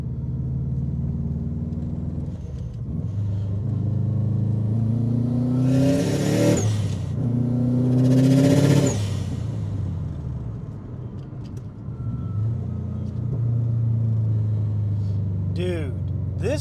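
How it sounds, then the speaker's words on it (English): A 2005 Subaru STi with a turbo accelerating on the road, its engine rising through revs in two strong pulls with wastegate whooshes, heard from inside the car with a steady rumble underneath. "The wastegate sounds so good."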